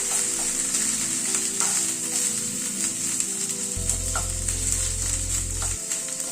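Ginger paste and raw lentils sauté in a hot pan for a prawn and banana-flower paturi, giving a steady close sizzle with occasional light stirring clicks and no talking.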